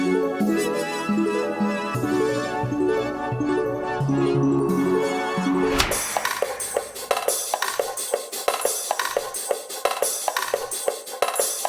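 Layered melodic parts of a homemade RnB, G-funk and drum and bass beat built in Cakewalk by BandLab, heavy with effects: sustained chordal tones first, then a dense stretch of busy percussive hits with melody, loud and continuous.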